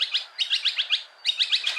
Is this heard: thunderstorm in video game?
no